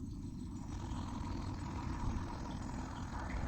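The 800cc three-cylinder engine of a 2019 Maruti Suzuki Alto 800 idles with the bonnet open, giving a close, steady, low rumble with slight uneven vibration and no voices.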